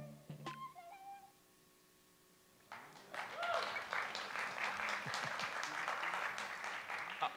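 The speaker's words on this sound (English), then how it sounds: "no need for applause" An audience at a Games for Change 2014 lecture applauds: after a few brief tones and a short quiet gap, dense clapping breaks out and continues steadily for several seconds.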